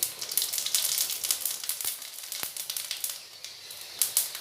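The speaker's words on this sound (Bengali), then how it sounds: "ফোড়নটা ভালো মতো ফুটে গেছে, সাবধানে দেবেন ফোড়নটা খুব ফুটে" Whole spices, cumin seeds and dried chili splutter in hot oil for a Bengali doi katla fish curry, giving a dense close sizzle with rapid crackling pops and a couple of sharper snaps, with no talk.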